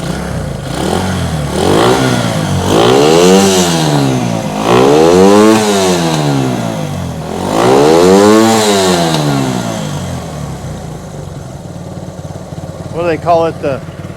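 A 1971 Honda CB100 two-stroke motorcycle engine revs up close and loud, climbing and falling in three or four big sweeping blips, then settles into a rough idle with a few quick sputtering revs.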